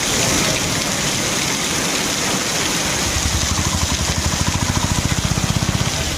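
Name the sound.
heavy rain falling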